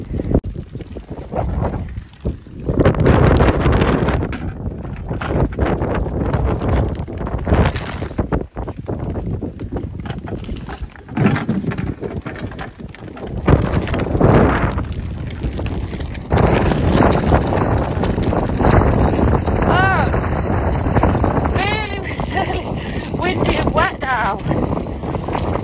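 Strong gusts of wind buffet the microphone in the corner of a rainy sheep field, roaring steadily with a person talking intermittently over the blustery noise.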